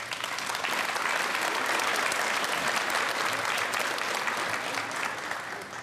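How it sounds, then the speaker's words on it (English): Sustained applause from an audience at a high school honors and awards ceremony in Cannon County, dense and steady throughout with no talk over it. "Give these individuals a round of applause."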